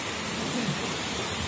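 Steady rain falling outdoors during a public ceremony for a clean water facility, a dense even hiss filling the short clip with no break.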